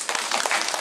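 Brief burst of audience applause at a local community meeting, dense scattered hand claps sustained at moderate loudness for under a second, with no voices over it.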